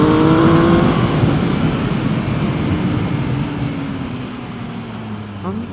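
A Triumph Speed Triple R motorcycle accelerates hard, its loud engine note climbing and then easing into a sustained drone, heard up close by the rider with heavy wind rush and no words spoken.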